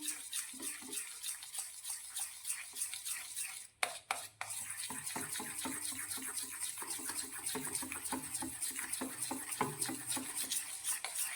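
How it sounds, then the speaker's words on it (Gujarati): Fresh milk cream is whisked in a bowl for puffed-rice ladoos, a fast, even run of close, soft strokes with a brief clatter of utensils partway through. "હવે મલાઈને આપણે સારી રીતે ફેટી દઈશું।"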